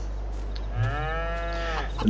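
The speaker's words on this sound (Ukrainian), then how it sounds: "Ви чуєте, вже і корови м'якують." A single cow in Farming Simulator 22 lets out one long, drawn-out moo over a steady low rumble of background noise, with no voices.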